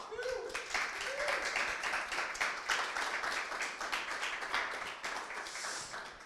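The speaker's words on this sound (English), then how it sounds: "Let's give a big round of applause" An audience at a coding bootcamp demo day gives a round of applause, a sustained bed of clapping with a few cheers, holding steady under scattered voices throughout.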